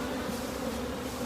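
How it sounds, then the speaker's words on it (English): Honey bees swarming around a beehive, a dense steady buzzing drone that is close and continuous with no voices. "We're going to just gently let the bees return to the hive"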